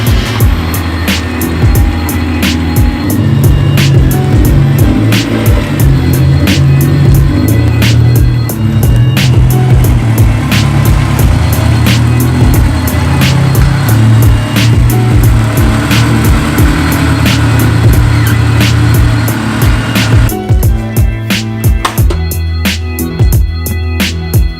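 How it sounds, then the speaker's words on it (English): A Honda S2000 rolls slowly into a garage, with a steady low engine and tyre rumble that holds at constant loudness, punctuated by regular faint clicks and rattles, then a busier metallic clatter near the end. "Let's pull in the car and then I'll get into it."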